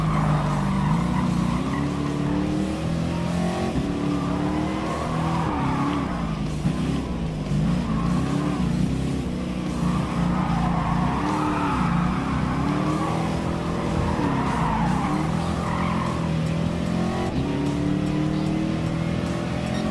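In a Gran Turismo Sport custom race, cars including a Ford Mustang, an Audi R8 and an F-150 Raptor roar around the track, engines droning and rising and falling in pitch through shifts, loud and unbroken without speech.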